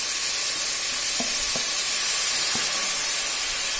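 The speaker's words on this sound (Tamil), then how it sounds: "அதுக்கப்புறம் தக்காளியும் போட்டு நம்ம கொஞ்சம் வதக்கிக்கலாம்." Tomatoes sauté in hot oil in a pan for tomato rice, producing a loud, continuous sizzling hiss broken by a few soft stirring taps.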